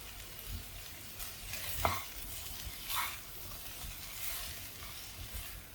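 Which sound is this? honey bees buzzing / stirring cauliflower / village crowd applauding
stirring cauliflower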